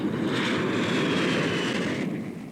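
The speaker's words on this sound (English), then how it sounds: "Flying attack squadrons off his carrier deck." Jet aircraft fly off an aircraft carrier deck as a steady, loud, close engine roar with a broad rushing quality that eases slightly at the end, heard with no voices.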